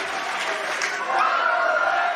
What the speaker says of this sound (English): And listen to this crowd. They love him.